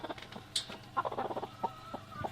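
Hens in nesting boxes give soft, short clucks and a sharp squawk, close but quiet, in a brief burst of scattered calls.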